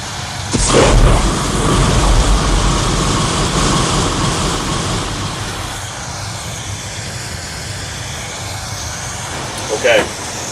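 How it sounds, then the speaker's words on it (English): Loud, steady roaring rush of a compressor-fed LPG fire blowing on a fire-training prop, constant broadband noise with a brief sharp burst near the start and another near the end. "we have a compressor LPG fire over here blowing across towards the back"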